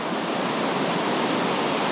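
Water rushing steadily through a river canal in Podgorica, Montenegro, a constant broadband hiss with no breaks, heard close and alone without voices.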